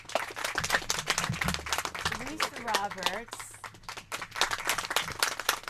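Scattered clapping from participants on a Zoom call for an eighth-grade sendoff, uneven claps over a person speaking, with a brief voice-like warble in the middle.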